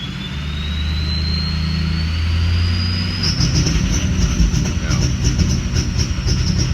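A Ford 6.0 Powerstroke diesel with an out-of-time sound revs up, its steady drone giving way to a rising turbo-like whine and rough, rhythmic pulsing from the engine.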